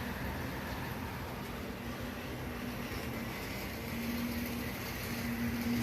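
An old HO-scale model locomotive runs steadily, its gears giving a continuous close whir with a faint tonal hum that rises slightly toward the end, with no talking.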